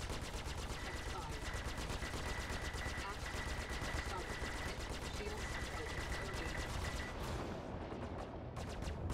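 Rapid, sustained automatic spaceship gunfire in the Star Citizen space combat game rattles on in a dense stream with a steady tone underneath, stopping near the end, while a player talks over it.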